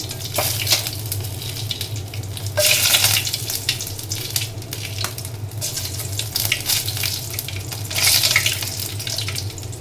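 Dried red chillies crackle and sizzle in hot oil with popping mustard seeds, a steady frying hiss with bursts of spattering and stirring, close and unaccompanied by speech.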